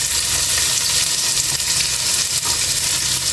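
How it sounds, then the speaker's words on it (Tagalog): Onions sautéing in hot oil for a white bean soup sauce, a steady close sizzle and crackle running throughout with no talk over it. "Mainit na yung mantika. Lagyan na natin sibuyas. Igisa-gisa lang natin."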